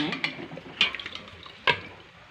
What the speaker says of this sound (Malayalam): അതുകൊണ്ട് തന്നെ ഉരുളക്കിഴങ്ങ് പൊരിച്ചതാണ്.